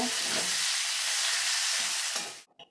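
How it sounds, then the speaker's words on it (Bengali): Chopped and whole onions sizzle in hot oil in a pan for Bengali loti chingri, a steady bright frying hiss that cuts off abruptly near the end, followed by a couple of faint clicks. "পেঁয়াজটাও আমি ভালো করে ভেজে নেব"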